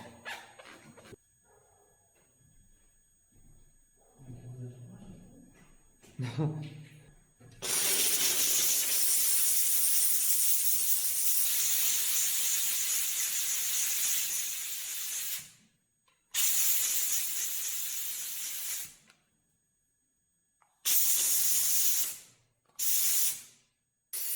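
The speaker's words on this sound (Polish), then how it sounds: "Odtłuszczacz plus wysoka temperatura z parą daje nam świetny efekt." Steam cleaner blasting hot steam with degreaser onto a grimy wheel during an old Peugeot restoration, long loud hissing bursts that cut off abruptly, with a few short blasts near the end and a dog barking in the quieter opening.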